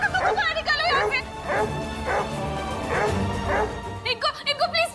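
Dogs bark and yelp repeatedly indoors in a bursty, uneven rhythm, close by, mixed with agitated voices talking over them.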